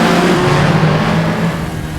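Alfa Romeo GTA engine pulling hard under throttle in Assetto Corsa, a steady close-up drone with a rising pitch that fades slightly toward the end, with no one talking over it.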